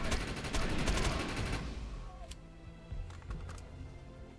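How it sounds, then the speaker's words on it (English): Rapid assault rifle fire in the video game Defiance, a dense burst of close shots for the first second and a half, then a few scattered single shots and game effects. "Let's just kill this guy with assault rifle"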